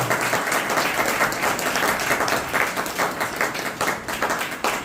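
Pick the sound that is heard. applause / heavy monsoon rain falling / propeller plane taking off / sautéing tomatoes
applause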